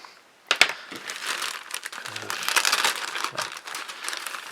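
A sharp knife slicing open the crinkly plastic packaging of an Airfix RAF BE2c model kit, giving close, dry rustling and crackling that builds into continuous crumpling and tearing, with one sharp snap near the start.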